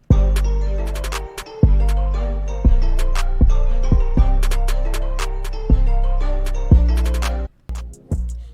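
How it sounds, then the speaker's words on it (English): Hip-hop trap beat with a snare added over booming kicks and a melodic loop: sharp, bright snare cracks and quick rolls land between the heavy bass hits, loud and up front, with no talking. "the next thing I added was this snare"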